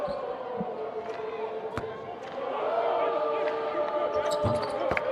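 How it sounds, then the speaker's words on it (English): Basketball fans applaud and cheer in the arena during the NMSU vs Chicago State WAC quarterfinal, the crowd swelling louder midway through and continuing under a commentator's steady talk. "Fans here giving them a nice applause."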